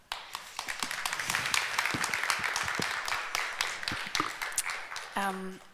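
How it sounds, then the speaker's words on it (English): An audience at a Ukrainian arts evening applauds a performer, many hands clapping in a brisk, steady patter that swells and then thins out, with a voice speaking briefly as the clapping fades. "please, a round of applause for Oleksandra."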